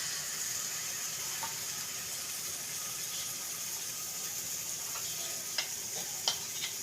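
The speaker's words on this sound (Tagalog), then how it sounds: "lagyan muna natin ulit ng butter. Yan. Tapos, lagyan ulit natin ng ating pancake mix" Pancake batter sizzles in melted butter in a hot pan, a steady close frying hiss with a few faint ticks and pops near the end.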